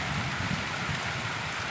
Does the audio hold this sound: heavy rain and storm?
yes